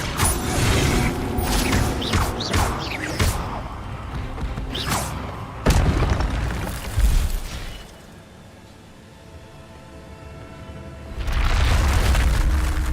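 Incendio fire spell cast in Hogwarts Legacy, heard as a run of loud booming thumps and mechanical bursts that fall away into a quiet lull before a dense roar builds again at the end.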